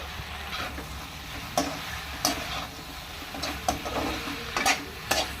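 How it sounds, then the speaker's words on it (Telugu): Restaurant-style veg manchurian with coriander being stirred in a frying pan, a constant sizzle broken by sharp, irregular scrapes and knocks of a spoon on the pan, close and fairly loud. "ఫైనల్గా ఇంకా ఒకసారి కలిపి స్టవ్ ఆఫ్ చేసుకుందాం అండి"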